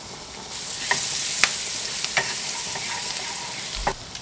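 Garlic sizzles loudly in melted spread in a hot pan, a steady close frying hiss punctuated by several scraping knocks of a utensil stirring.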